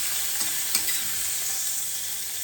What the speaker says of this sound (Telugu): కొంచెం పచ్చి వాసన పోయేదాకా మంచిగా వేగించాలండి.